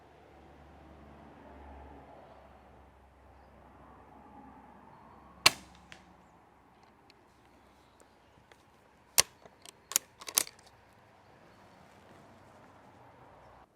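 French school rifles fire at a target outdoors, several sharp cracks: one alone, then a tight cluster of shots a few seconds later, with quiet gaps between.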